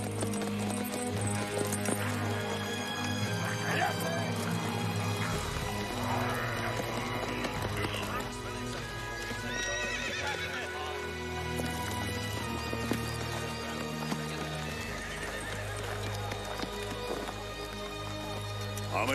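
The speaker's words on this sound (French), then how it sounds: "Et donnez à manger à mon cheval." Horse hooves clip-clop over a continuous music bed, with a few hoof strikes and a whinny-like sound standing out at moderate loudness.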